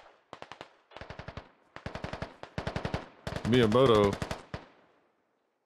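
Gunfire in the Squad video game comes as repeated bursts of automatic fire in rapid rhythmic volleys. The shots are loud and close, with a voice speaking briefly partway through.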